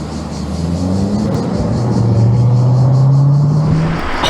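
A yellow Lamborghini Urus SUV drives past on the road, its engine a loud, steady low drone whose pitch climbs gradually as it nears, with broad road rumble and no voices.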